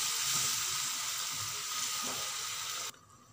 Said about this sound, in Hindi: अब हम इसमें ऐड करेंगे 1 ग्लास ऑफ वाटर और इसे अच्छी तरीके से मिक्स करेंगे